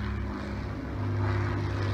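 A propeller airplane drones steadily overhead, a continuous low hum that swells slightly, heard outdoors near a garage during a car's transmission crossmember installation.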